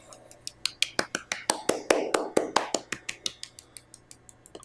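Hand claps in an elementary arts lesson on sound intensity, first two fingers striking a palm, then both palms, in a steady run of about twenty crisp, close claps that grow gradually louder.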